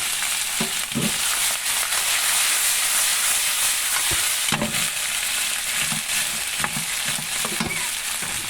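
A loud, steady sizzle of potatoes stir-frying with sesame oil and salt in a hot pan, with occasional clinks and scrapes of stirring throughout.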